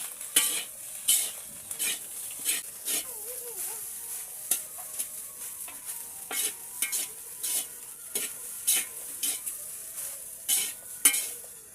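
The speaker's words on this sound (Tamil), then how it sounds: "அதை போட்டு ஒரு கிளறி இறக்கிக்கொள்ளும்" Fried rice stirred in a pan with a spoon, repeated scraping and clinking strokes in an irregular rhythm over a light sizzle, close and fairly quiet, with no talking.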